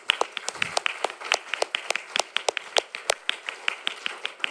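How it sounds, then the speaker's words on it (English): Scattered hands clapping for conference panelists at an urban climate justice day in Reggio Emilia, a small audience giving sharp, distinct claps at an uneven rhythm, close and clear with no talk over it. "if we could just a quick round of applause for all of our panelists today"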